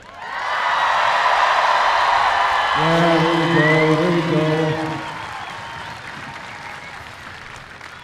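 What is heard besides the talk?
graduation crowd cheering and applauding for graduates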